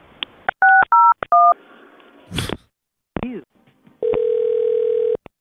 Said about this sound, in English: I'll transfer you to his line.